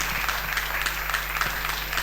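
A live music show audience claps in a steady, dense wash of applause that carries through the full two seconds at an even level, with no voices standing out.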